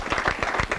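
Short burst of applause from a bowling crowd standing close behind the lanes after a strike on lane 8 during a televised 1997 300 game, dense claps over a steady roar with faint voices mixed in.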